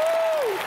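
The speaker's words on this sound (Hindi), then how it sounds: "सुष्मिता, एक बार सुष्मिता के लिए जोरदार तालियां." Studio audience applause on a Hindi TV comedy show: a short, loud burst of dense clapping, with a thin whistle-like tone gliding downward through it.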